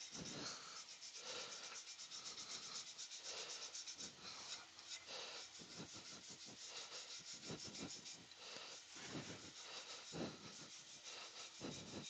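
Abrasive rubbing on a piece of wood spinning on a lathe during a turning session, a steady continuous rasping hiss with rhythmic strokes over a constant machine hum, fairly faint and close.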